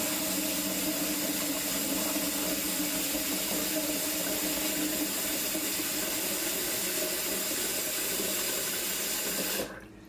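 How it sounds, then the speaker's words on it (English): Hot water runs steadily from a household tap into a carpet cleaner's tank, a continuous close splashing rush that goes on for nearly ten seconds and then cuts off abruptly. "Just hot water from the tap. Fill it up to your fill line."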